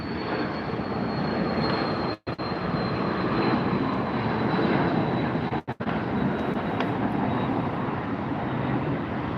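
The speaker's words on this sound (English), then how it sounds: "There's the British Airways A380 crossing." A British Airways A380 taxis across at LAX, its engines making a steady, broad roar at middle distance, with two short dropouts and no talk.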